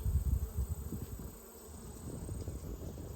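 Honey bees at an outdoor hive during fall hive checks, producing a dense, steady buzzing drone close by, continuous for the whole stretch with no talking.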